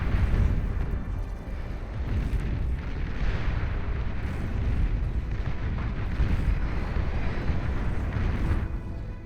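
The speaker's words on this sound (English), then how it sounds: "You can go for a killer bombing run." A bombing run in the strategy game Beyond All Reason sets off a dense, continuous barrage of deep rumbling explosions and booms, loud and sustained, with overlapping bursts throughout.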